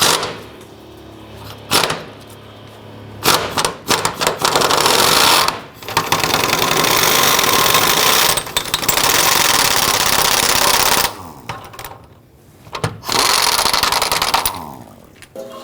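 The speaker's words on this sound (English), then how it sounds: "Now on our upper control arm, loosen and remove the 15mm bolt." A power tool, likely an impact wrench, loosens a 15mm bolt on the rear upper control arm of a 1999-2004 Jeep Grand Cherokee in loud, close bursts of rapid rattling hammering, separated by brief pauses.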